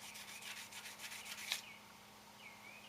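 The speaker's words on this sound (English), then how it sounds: "I'll sand it with the 100." Hand sanding the edge of a Glastar aircraft window with 100-grit sandpaper, a soft rhythmic series of close rubbing strokes that ends in one sharper scrape, followed by a quiet hum.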